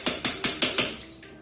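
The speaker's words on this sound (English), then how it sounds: "Very lightly you have to tap, don't do it very hardly or you may damage the membrane." A reverse osmosis membrane is tapped lightly by hand five times in quick, even succession, each tap a crisp close knock with a short hollow ring, followed by a brief quiet tail.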